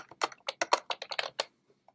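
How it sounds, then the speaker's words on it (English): Fingers type on a computer keyboard up close, a quick burst of about a dozen crisp clicking keystrokes in irregular rhythm, then a pause with one or two faint final taps. "I'm going to type in"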